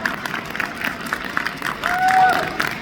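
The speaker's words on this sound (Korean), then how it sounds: "그럼 이세돌 교수님을 큰 박수로 맞이해 주시길 바랍니다" An audience at a science and technology festival talk in Korea claps to welcome a speaker to the stage, a brief, moderately loud round of applause mixed with crowd murmur and a voice speaking.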